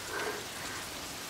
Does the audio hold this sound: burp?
no